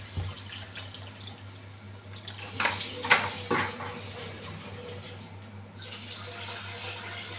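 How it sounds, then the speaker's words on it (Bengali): Broth poured into a cooking pot of prawn and potato ghonto, a short splashing liquid pour rising in the middle over a steady low kitchen hum, with no one speaking. "ঝোলটা দিয়ে দিচ্ছি।"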